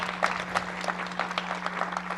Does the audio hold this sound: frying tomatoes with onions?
no